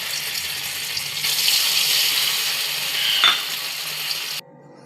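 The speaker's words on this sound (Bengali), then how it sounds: "এবারে পনিরগুলো আমি ভেজে" Paneer pieces frying in hot oil for palak paneer give a steady, close, broadband sizzle that holds for about four seconds, swells slightly near the end, then cuts off abruptly.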